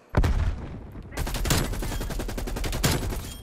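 In Call of Duty: Black Ops Cold War, an ARP submachine gun fires long, loud, rapid automatic bursts at close range. The rattle is nearly continuous, with a brief pause after the first shot.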